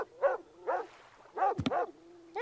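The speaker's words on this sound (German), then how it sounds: "Hundi, jetzt hör doch mal bitte auf zu bellen hier" Dog barking in the video game Lost Chronicles of Zerzura: four evenly spaced, fairly close barks, alone with no talk.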